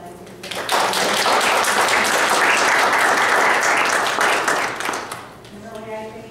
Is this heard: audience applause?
yes